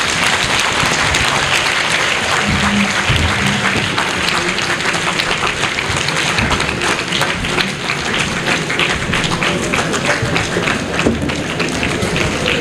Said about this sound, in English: A big round of applause for His Excellency.